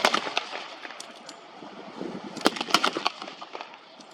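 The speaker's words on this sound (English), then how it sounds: "Another round dropping in." A simulated artillery round bursts during a World War I battle reenactment at a tank show, heard as a series of sharp cracks and thumps over steady outdoor wind, loudest around the middle with scattered smaller pops.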